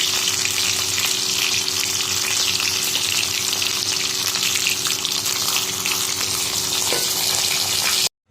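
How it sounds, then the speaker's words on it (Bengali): Fish frying in hot oil in a wok, giving a loud, dense, continuous crackling sizzle that holds steady for several seconds before cutting off abruptly, with no talking. "মাছ তো তাই জন্য একটু ভেজে নিচ্ছি"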